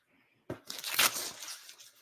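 Paper or a vinyl print being trimmed at its edge, a close crisp cutting and tearing rustle lasting over a second after a sharp start, with no talking.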